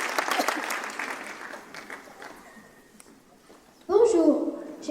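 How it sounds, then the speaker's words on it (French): Audience applause for a new junior mayor at a town New Year's greetings event, clapping that starts fairly strong and fades, followed by a voice speaking. "je vous demande d'applaudir Enola, le nouveau maire"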